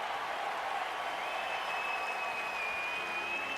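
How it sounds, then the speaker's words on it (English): Crowd at a 2010 St. Louis Cardinals versus Chicago Cubs MLB game applauding Alfonso Soriano's throw: a steady, distant wash of stadium clapping and cheering that holds evenly throughout. "It's not very often that Soriano gets applauded for his defense"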